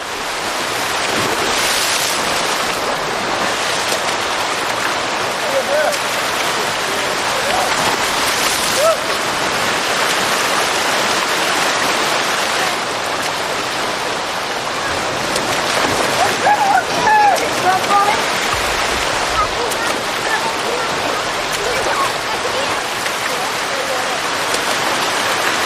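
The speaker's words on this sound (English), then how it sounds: "The waterfall is a favorite gathering place for all the Zo'é children and makes an excellent adventure" Waterfall in the Amazon rainforest where Zo'é children gather, giving a steady broadband rush of falling water that holds loud and continuous throughout, with a faint voice in the background.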